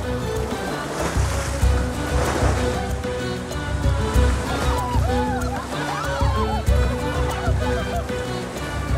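White water river rapids with dozens of rafts and kayaks working through cataracts on a sunny weekend, a loud, continuous rushing roar of churning water, with voices heard faintly over it.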